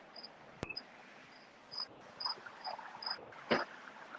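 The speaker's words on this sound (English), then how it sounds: "I hear a cricket." A cricket chirps in short, evenly spaced high bursts, faint and a little distant, against quiet background hiss with a couple of sharp clicks, and no voices.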